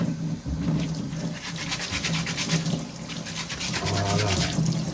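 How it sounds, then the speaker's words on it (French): Bristle brush scrubbing small paint spray gun parts and utensils during cleanup, a steady wet rhythmic scrubbing with running water sounds, continuous and close throughout. "Un petit coup de brosse sur tous les petits ustensiles, comme ça on les laisse clean pour la prochaine fois."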